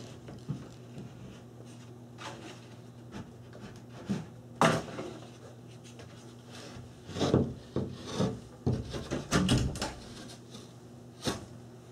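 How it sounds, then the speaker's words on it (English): A wooden subfloor sheet is laid onto glued floor joists, giving scattered knocks, scrapes and rubbing bumps of wood at close range, loudest in a cluster near the end. "Okay, so I'm going to go ahead and lay this first sheet down. Now that I got the adhesive on the floor joists."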